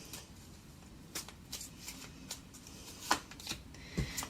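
Tarot cards being shuffled and drawn during a reading, soft papery riffles and slaps scattered through a quiet room, with a couple of sharper snaps near the end.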